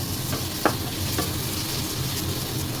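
Meat for adobo fries in oil with a loud, continuous sizzle close by, broken by a few scraping stir strokes through the pan.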